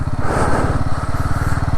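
Motorcycle ridden slowly in first gear through sand at high altitude in Ladakh, its engine thumping in a fast, steady, close-up pulse with a loud rumbling throb.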